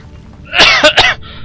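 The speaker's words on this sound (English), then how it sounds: "Excuse me, I'm coughing in your ear." Someone coughs in a short burst of two or three harsh, close, loud coughs with no other sound.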